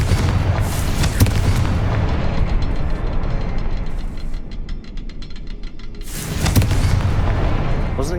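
Confringo blasting spell explosions in Hogwarts Legacy, loud booming blasts at the start and again near the end over a steady rumbling game backdrop.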